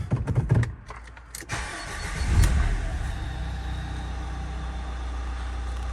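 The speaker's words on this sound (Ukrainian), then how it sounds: "І коли запустимо двигун." A 2013 Renault Kangoo 2 with a 1.5 dCi diesel engine and a turbo pressure sensor fault cranks briefly, catches, and settles into a steady, close diesel idle.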